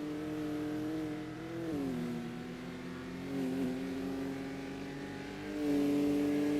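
A Ford Mustang GT4 race car in a racing video game runs its engine hard, with the steady drone rising and dropping through several gear changes and climbing into a strong rev near the end.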